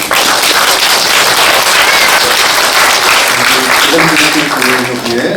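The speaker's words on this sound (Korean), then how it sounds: "우리 하나님께 영광의 박수 드립니다." A church congregation at a joint Reformation Sunday service claps loudly and continuously in a dense, sustained burst of applause, with voices and a few tones rising underneath toward the end.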